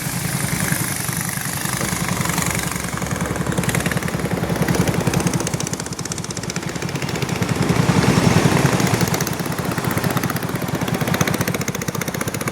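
A motor boat engine chugs loudly and continuously on a river in Bandarban, a rough, rattling drone that swells slightly and then eases, heard up close with no voices.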